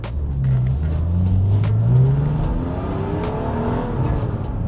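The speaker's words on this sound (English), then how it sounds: "I'm not revving it out fully, again it's his car." A BMW E36 engine revs up and down, not fully, with a rising, whirring pitch over a steady low rumble, close and loud, with no talking.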